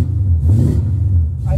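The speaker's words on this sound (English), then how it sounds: "I hate that your car sounds better than mine." An AMC 304 V8 car engine revving with a deep rumble, rising briefly then settling into a steady low idle, close and fairly loud.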